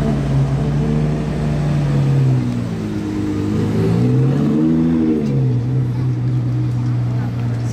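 Sports car engine in Monaco revving loudly nearby, a deep steady drone that climbs and falls in pitch through two throttle swells, with voices talking under it.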